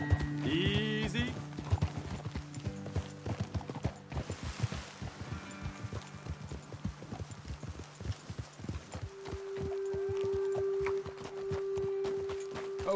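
Horse hooves clip-clop steadily at a walking pace in the Red Dead Redemption 2 video game, a close rhythmic patter of several horses with a brief whinny near the start and a sustained tone later in the scene.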